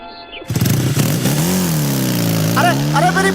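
A motorbike engine starts up and revs, running loud and steady, then rises in pitch as the bike pulls away, with someone shouting over it.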